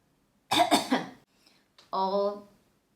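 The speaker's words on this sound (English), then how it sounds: "I know you coughed in my face." A person coughs in a quick burst of three harsh, close coughs, followed after a brief pause by a short voiced throat sound, indoors and otherwise quiet.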